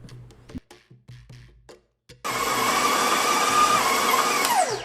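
A stand mixer kneading pumpkin concha dough for Mexican sweet bread starts up after a few short clicks and runs as a steady, loud motor whine that holds until the end.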